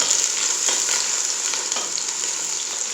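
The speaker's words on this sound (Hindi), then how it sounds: "प्याज हमारे हल्के हल्के ब्राउन होने शुरू हो गए हैं।" Steady sizzling of onions frying in a pan, a continuous close crackle with occasional soft pops and stirring, no voices.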